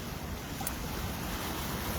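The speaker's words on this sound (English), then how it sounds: "And here's this beautiful ocean." Steady broadband wash of ocean surf along a shoreline, a constant soft roar with faint wind noise and no distinct individual wave breaks, quiet and continuous throughout.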